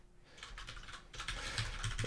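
Someone types on a computer keyboard: quick, close, irregular key clicks in short bursts, growing busier toward the end.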